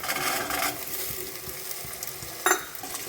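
Capsicum, peas and a little turmeric sizzle and fry in a pan for vegetable pulao, with steady crackling and occasional stirring scrapes, close and moderately loud.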